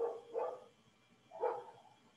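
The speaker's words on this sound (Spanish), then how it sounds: "Malditos perros." A dog barks in three loud, close bursts, with two quick barks and then a single one after a pause, and no talk over them.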